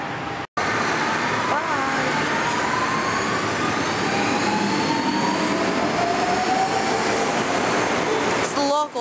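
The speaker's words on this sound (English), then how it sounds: "I think this is the last train of the day" A local train pulls out at sunset, a steady rumble of wheels and rail noise with rising and falling tonal squeals running almost the whole time, fairly loud and close.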